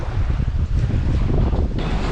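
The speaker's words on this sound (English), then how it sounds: "It is very windy, very windy." Strong wind roars across open water where a hurricane-damaged Grady White boat is being launched, a loud, steady buffeting rumble on the microphone with the slap of small waves underneath.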